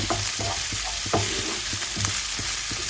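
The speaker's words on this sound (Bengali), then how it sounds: "আমি ব্রকুলিগুলো দিয়ে দিব দিয়ে ব্রোকলির সাথে ভেজে নিব" Broccoli fries with onion and garlic in a hot pan, a steady loud sizzle broken by regular scraping strokes of a spatula as the pieces are tossed.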